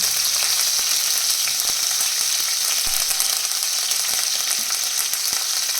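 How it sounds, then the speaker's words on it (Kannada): Chopped green chillies and curry leaves fry in hot oil over spluttering mustard seeds, giving a loud, dense, continuous sizzle scattered with small crackles and pops, with no voices. "ಇವಾಗ ಅದಕ್ಕೆ ಹೆಚ್ಚಿಟ್ಕೊಂಡಿರೋ ಹಸಿಮೆಣಸಿನ್ಕಾಯಿ ಮತ್ತು ಕರಿಬೇವನ್ನು"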